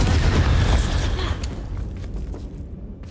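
The Bombarda exploding spell goes off in the Hogwarts Legacy video game, a single heavy boom that is loud at first and then rumbles away to quiet.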